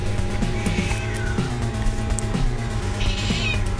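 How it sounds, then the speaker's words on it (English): A cat meows in a few short calls that rise and fall over a steady hum of background music or machine noise. "Yes, hello, kitty."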